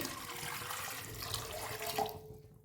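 About 1.5 cups of water pours steadily into a pan for ghee kesari, a close, rushing splash that tapers off and stops near the end.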